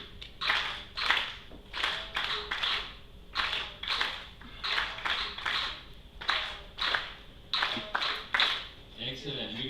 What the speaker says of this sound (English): Again, with you, of course, clapping.